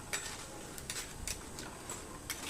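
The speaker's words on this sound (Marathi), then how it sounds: "बदामाचे कापही अगदीच एक मिनिटभरामध्ये तळून तयार होतात" Almond slices fry in hot oil, giving a soft, steady sizzle with faint crackles and occasional light utensil clinks, close and quiet.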